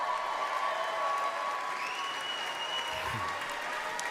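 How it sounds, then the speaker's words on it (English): A comedy club audience at a Shane Gillis stand-up show breaks into dense, steady applause that carries on throughout, close and full, with a few faint whoops and voices mixed in. "You clap for that."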